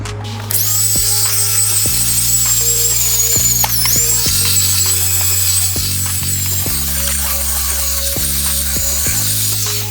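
A power drill whines steadily with a rotating brush scrubbing a car's carpet, the pitch shifting slightly as pressure changes, loud and close throughout.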